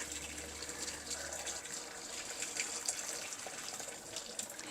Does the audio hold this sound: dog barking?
no